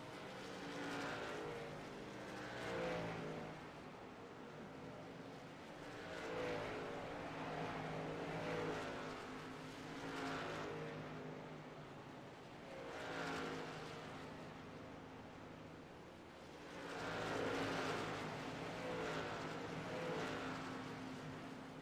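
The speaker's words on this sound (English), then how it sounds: "Andrew Kurtz brings that truck down pit road. Gets to pit road speed" Race trucks in the iRacing simulator lap Richmond, engines droning steadily and swelling in repeated waves as they pass, a continuous layered motor roar with no talk.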